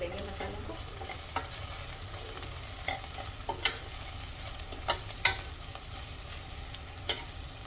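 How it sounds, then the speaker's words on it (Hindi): Cumin powder, garam masala and turmeric are stirred into an onion masala frying in a pan for a besan curry. A steady sizzle runs throughout, with irregular spoon scrapes and knocks popping out above it. "मिक्स कर लेंगे मसालों को"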